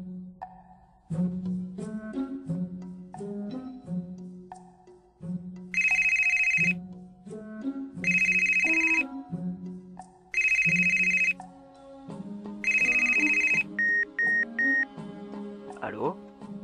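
Electronic telephone ringtone in the life-simulation game The Sims 3: four loud bursts of bright, steady tone repeating at regular intervals over soft game music, followed by short beeps.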